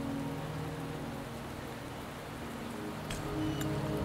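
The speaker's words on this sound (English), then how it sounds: "The rain is subsiding, and the sky will soon clear." Steady rainfall in a Wuthering Waves cutscene, a soft continuous hiss of drops with a low rumbling undertone, even throughout with a couple of faint brief ticks near the end.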